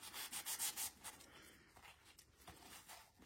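A finger rubs degreasing cleaning product over a greasy spot during a car oil change, giving quiet, soft, dry scrubbing strokes in short repeated bursts with no voices.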